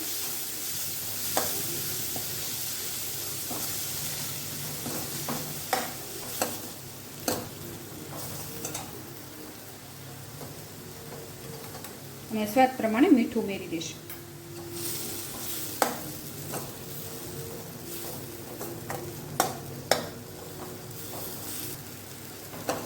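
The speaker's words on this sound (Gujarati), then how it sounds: "અને પાણી મેથીમાં હોય એ બળી જાય ને ત્યાં સુધી આપણે આને થવા દેવાનું છે" Fresh fenugreek leaves sizzle in ghee in a pan while a spoon scrapes and taps the pan now and then, with a person speaking briefly partway through.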